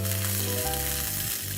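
Julienned ginger and green chillies fry in spiced oil, giving a steady close sizzle and crackle that runs unbroken through the brief moment, with no one speaking.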